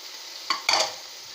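A spoon stirs yogurt into frying chana dal masala in a pan, two short scraping, squelching strokes over a soft background sizzle, close and otherwise quiet.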